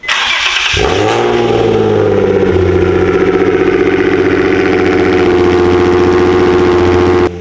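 A Nissan 350Z with an HR engine and a very loud exhaust setup starts and settles into a loud, deep, rumbling idle with steady exhaust burble, close and continuous.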